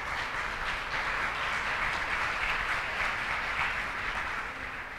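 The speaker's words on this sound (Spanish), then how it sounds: "les damos un fuerte aplauso, por favor." An audience at a national archivists' conference round table applauds with steady, even clapping that holds throughout and eases slightly at the end.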